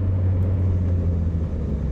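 A Subaru time attack race car limping around a track at about 3,000 RPM, a steady low engine rumble droning close and continuous without voices.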